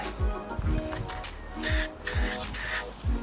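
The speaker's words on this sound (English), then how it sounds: "got our primer, and we got this little spray gun thing" Short hissing bursts of a small spray gun spraying primer on a Ford Fiesta RS spoiler, a few seconds apart, close by, with low thuds and handling noise between them.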